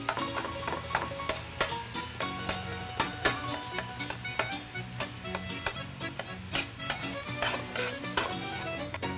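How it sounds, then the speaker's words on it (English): Minced meat browning in a pan for a bolognese, a steady close sizzle and crackle with frequent scraping stirs and light clinks of a utensil against the pan, no talking. "So this has been browning for about 5 minutes"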